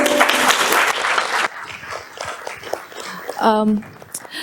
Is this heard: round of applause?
yes